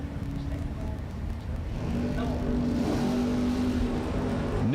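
At a bracket drag racing event, a drag car launches hard into a wheel stand, its engine note climbing steadily and loudly over a constant roar of engines and crowd ambience.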